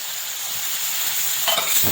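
Spiced yogurt masala frying in oil for a cabbage kofta curry, a steady broadband sizzle throughout, with a brief stir or scrape and a bubbling swell toward the end.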